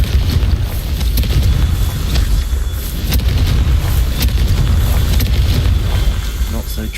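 Fiery Confringo explosion spell cast in the video game Hogwarts Legacy, a loud booming blast over a continuous rumbling, wind-like roar, with several sharp impacts through the clip.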